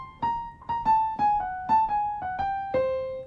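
Jazz piano enclosure lick in the style of a jazz pianist, starting on beat three: a short run of about eight bright single notes circling and landing on a target, played alone at close, even volume.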